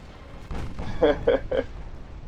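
Battleship guns boom in a naval combat video game set in a 1940 campaign, with several quick, evenly spaced heavy shots over a low rumbling background.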